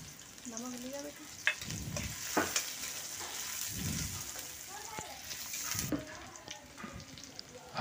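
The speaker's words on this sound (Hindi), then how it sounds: "सरसों वाला तेल है ये दोस्तों, इसमें डाल दिया प्याज, प्याज को ऐड कर लिया इसमें।" Onion sizzles and crackles in hot mustard oil while being stirred in a pan, a steady frying hiss with scraping stirs and occasional clinks, and a voice talks in the background.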